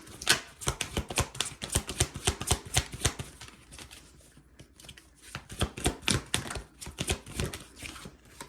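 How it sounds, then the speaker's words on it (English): Cards are shuffled up close in rapid riffling bursts, a quick flurry of crisp flicks, a brief pause, then another round of shuffling. "I'm shuffling off camera, by the way."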